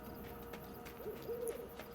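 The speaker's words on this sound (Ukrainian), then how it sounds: "Чули? Сова. Це сова." A single low owl hoot in the video game Endling - Extinction is Forever, soft and drawn out, sounds faintly over a steady hum of quiet background noise.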